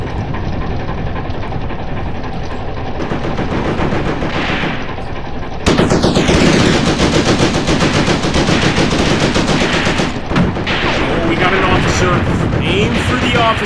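Gunfire and artillery in a WW2 desert battle video game, with dense rapid machine-gun bursts and heavy booms running continuously and growing louder partway through.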